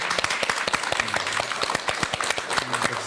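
A studio audience at a Buddhist talk show with a monk breaks into applause: close, crackly clapping with distinct individual claps throughout, and a faint voice murmuring underneath.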